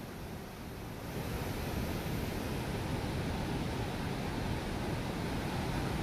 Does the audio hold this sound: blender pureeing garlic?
no